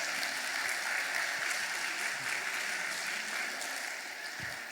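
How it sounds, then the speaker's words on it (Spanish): Sustained congregation applause during a church sermon, a dense even wash of clapping that holds steady and tapers slightly near the end, with no voices over it. "alguien aplauda a los chavos allí"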